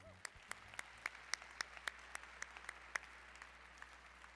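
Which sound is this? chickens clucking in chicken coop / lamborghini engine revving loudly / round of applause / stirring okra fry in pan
round of applause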